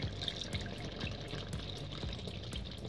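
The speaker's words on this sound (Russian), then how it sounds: "Добавляем воды, чтобы вода покрыла мясо." Water poured into a pot over pieces of meat for Hungarian bograch goulash, a steady soft splashing and trickling stream that is fairly quiet and continuous.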